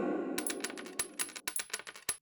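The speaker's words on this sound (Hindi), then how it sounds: "उसी बर्तन में सोने के सिक्के नापने लगे दोनों" Gold coins clinking into a metal pot, a run of separate bright metallic chinks and rattles that start after a low rumbling scrape and fall in an uneven rhythm, close and clear, no speech.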